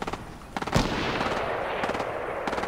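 Gunfire in the video game Fortnite; rapid bursts of automatic shots in short clusters with one heavier blast, sharp and fairly loud over a steady game background.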